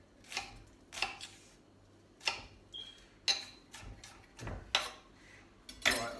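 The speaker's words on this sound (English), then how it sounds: "So we're going to cut it into rough chop." A knife chopping an onion on a board for mushroom soup, about nine sharp separate knocks spaced unevenly over several seconds, close and clear with quiet gaps between strokes.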